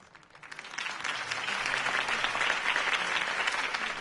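Crowd applause after a campaign speech in a city setting, swelling quickly from quiet into a dense, sustained burst of clapping that holds steady to the end.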